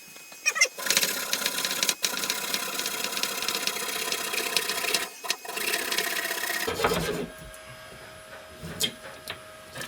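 Saw cutting through loft framing timber during a loft conversion, a harsh rasping buzz in bursts with brief pauses, close and fairly loud, ending as the blade stops and leaves quieter knocking.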